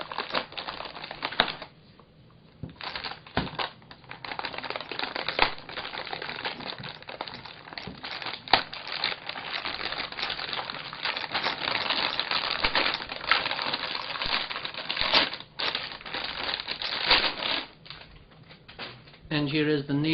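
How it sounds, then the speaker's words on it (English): A GTX 295 Co-op Edition graphics card is lifted out of its packaging, with crinkling plastic, rustling foam and scattered small knocks and clicks running continuously at close range. "Let's have a look at the main card itself and take this out of the packaging."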